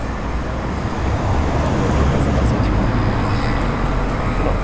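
Steady road traffic on a street in Portugal, a car passing close by as a continuous loud broadband rumble with no clear breaks.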